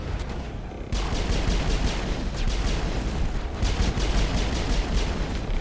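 Sustained gunfire from the video game Mass Effect, dense rapid shots and booming blasts rolling continuously after a brief quieter opening, loud and close with no talk over it.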